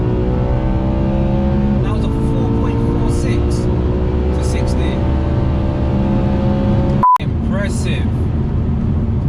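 A car engine revs and climbs in pitch as it accelerates hard, loud and close, with a brief cut near the end and faint voices.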